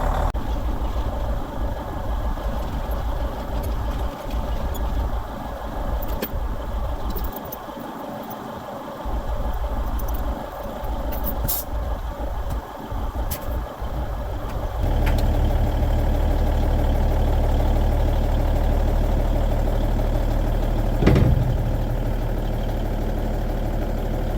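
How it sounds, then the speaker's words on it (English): A semi truck engine idles while warming up on a farm, a steady low rumble that grows louder and heavier partway through, with a short clank near the end. "We're actually just letting the semi warm up right here."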